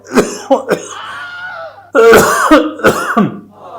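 Someone nearby clears their throat and coughs several times in short, harsh bursts separated by brief pauses.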